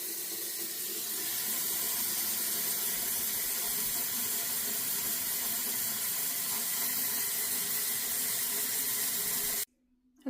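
Water runs steadily from a tap into a humidifier tank, a continuous close hissing splash that fills almost the whole stretch and then cuts off abruptly near the end.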